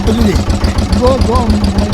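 A motorized wooden boat on the Krishna River near a remote delta village chugs steadily with a close, low, rhythmic engine thump, with faint voices mixed in.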